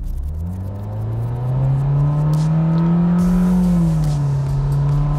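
A Renault Sandero 1.6 CVT engine revs as the accelerator is pressed hard: a loud, close drone climbs in pitch and holds high, then eases slightly, with road rumble underneath and no talking.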